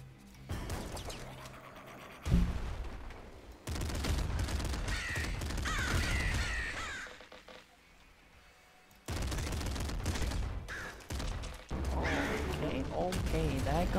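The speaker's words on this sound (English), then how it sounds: "shitty guns go off." Guns fire in several loud bursts of rapid shots separated by short pauses, with a nearly quiet gap near the middle of the clip.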